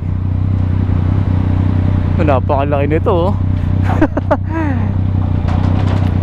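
Road traffic noise heard from a big bike stuck in a traffic jam, a steady low engine rumble and idling hum of surrounding vehicles running throughout, with a rider talking over it partway through.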